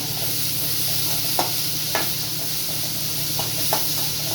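Onions fry in a pan, a steady close sizzle with a few light clicks of a spoon or spatula against the pan, under a constant low hum.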